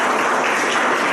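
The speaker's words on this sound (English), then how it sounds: "give them a big round of applause" A loud burst of dense clapping from a school audience fills the whole moment, steady and close.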